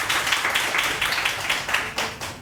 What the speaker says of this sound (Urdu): بہت ساری تالیاں عائشہ بلال کے لیے